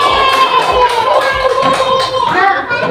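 Children in a classroom clap together in a lively burst with some shouting, close and loud, while a teacher's voice talks over the clapping.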